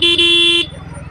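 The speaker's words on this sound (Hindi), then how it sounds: "इनके तो हॉर्न मारने का कोई फायदा नहीं है" A loud vehicle horn blares in night traffic in two sustained blasts over about half a second, then cuts off, leaving low engine rumble.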